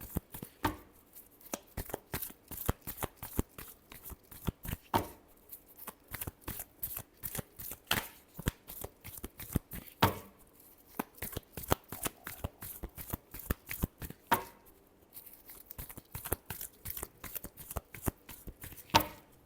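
Tarot cards flash shuffled by hand in a fast, steady stream of crisp riffling snaps, close and fairly quiet, with a few brief pauses between bursts and no talking.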